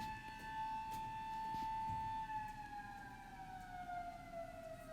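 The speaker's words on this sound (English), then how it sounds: "Sorry guys for the siren in the background." A wailing siren with a slowly falling pitch sounds steadily in the distance, with a low traffic rumble underneath and no talking.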